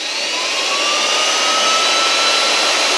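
A TC600A handheld blower running at its fourth power level gives a steady, loud, rushing roar with a faint rising whine, holding constant for the whole few seconds with no talk.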